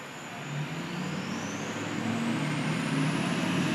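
A diesel engine runs at a steady idle in a garage, a continuous low rumble with a faint high whine rising over it, heard alone without talk.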